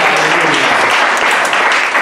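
Audience applause at a Bible institute student certification ceremony: a short burst of close, dense, even clapping from a crowd.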